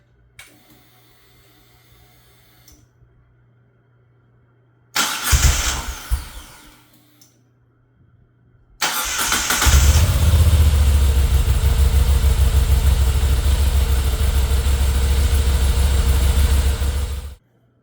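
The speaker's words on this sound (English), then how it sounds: "I'm going to run the bike for a few minutes just to get the oil to drain a little bit easier." Moto Guzzi V7 850 Special motorcycle engine: faint ticking first, then a brief cranking burst that dies, then a second start that catches into a loud, steady close-up idle lasting several seconds before cutting off.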